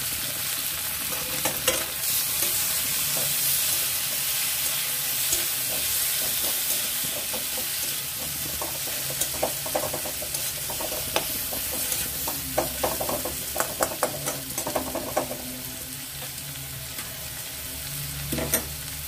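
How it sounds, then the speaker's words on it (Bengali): Chopped tomato sautéing with fried onions in a pan for a fish curry, giving a steady close sizzle and frying hiss with intermittent scraping and stirring clatter, louder toward the end, with no talk. "টমেটোটাও কিছুক্ষণ কষিয়ে নিচ্ছি"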